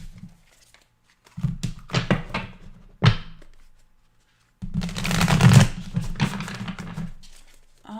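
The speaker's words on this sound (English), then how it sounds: "Let's just shuffle this up one more time." Tarot cards shuffled by hand, with a few riffling bursts and soft thumps, then a longer, louder continuous shuffle up close.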